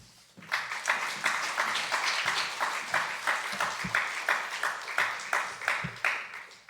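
A university chapel audience claps steadily as a pastor comes up to speak: dense, even applause from a crowded hall that starts abruptly and holds for several seconds, with no talking over it.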